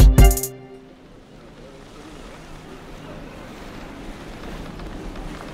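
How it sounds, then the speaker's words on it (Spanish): Waves and wind wash steadily through the port of A Coruña, a low continuous harbor roar after a brief loud burst at the start, with no talk over it. "hemos llegado al puerto de La Coruña y vemos un barco llamado María Pita"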